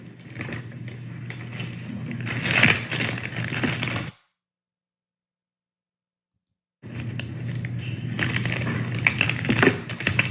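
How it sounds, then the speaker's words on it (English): Two empty bottles rattle inside a paper bag as evidence is handled in a courtroom, a loud continuous clatter and crinkle that cuts out to silence midway, then resumes just as busily. "I can't deal with the rattling."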